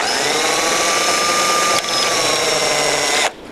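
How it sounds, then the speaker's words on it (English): A small power drill with a 1/16 inch bit whines steadily at high speed drilling a pilot hole in a BOSS snowplow light housing, briefly dipping midway before spinning down near the end. "Now with a 1/16 inch drill bit, I'm simply going to drill on the mark that I've made here"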